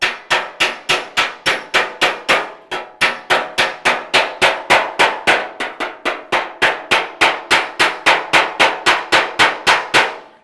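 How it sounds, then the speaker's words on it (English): A hammer strikes sheet metal backed by a dolly on a 1956 Chevy fender, some thirty sharp ringing blows in a steady, fast rhythm, each leaving a brief metallic ring, close and loud with no talk. "I'm hammering on dolly."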